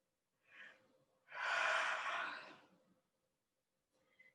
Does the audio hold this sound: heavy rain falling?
no